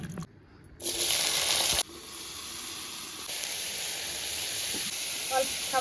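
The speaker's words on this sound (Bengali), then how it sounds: "কড়াইটা গরম হয়ে গেছে আবারও খানিকটা পরিমাণ তেল দিয়ে দিচ্ছি এবার এই যে চাল কুমড়োটা কেটে রেখেছিলাম না এবার চাল কুমড়োটা দিয়ে দেবো" Ash gourd pieces drop into hot oil in a wok, setting off a loud burst of sizzling that settles into a steady, close frying hiss.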